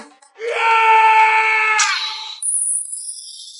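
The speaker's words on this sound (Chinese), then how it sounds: "凄厉的惨叫声几乎响彻整个施暴部落" A drawn-out, agonized scream from a character in an animated fantasy fight, rising sharply and held loud for nearly two seconds before breaking off into a brief higher tail, with nothing else around it.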